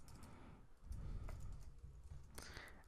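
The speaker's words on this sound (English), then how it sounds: "we will go right here and type in public void" Faint typing of code on a computer keyboard, soft irregular key clicks in a quiet room with a low background hum, close but very low in level.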